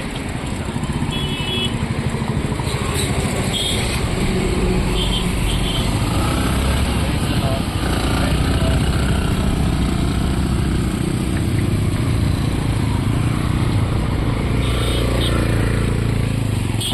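Four motorcycles ride together on a road in West Bengal, their engines humming steadily at close range with wind noise and passing traffic mixed in.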